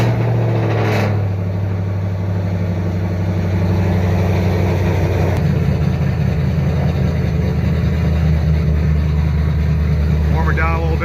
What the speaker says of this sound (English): Then again, my car is loud.